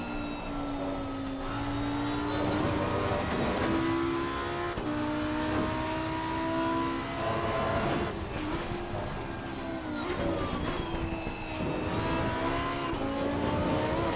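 A Lamborghini Huracan EVO GT3 race car engine in the game Assetto Corsa Competizione at Imola roars continuously, revving and shifting through gears with a loud, steady drone and sharp pitch changes.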